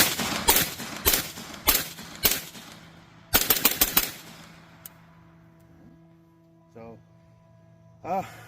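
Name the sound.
300 Blackout rifle firing five subsonic rounds slowly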